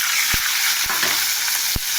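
Coconut paste hits hot oil in a frying pan, a loud, dense hissing sizzle throughout, punctuated by a few sharp stirring knocks, close up with no talking.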